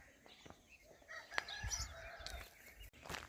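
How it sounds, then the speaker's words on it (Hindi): Distant chickens cluck and call intermittently in an outdoor setting, faint against a quiet rustling background. "किसी की मुर्गियाँ बोल रही हैं"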